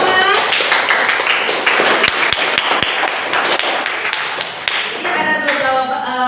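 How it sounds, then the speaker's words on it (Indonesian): A classroom of students clapping together for a classmate's correct answer, a dense burst of many hands that carries on for several seconds, with a teacher's voice briefly heard over it. "Berikan tepuk tangan."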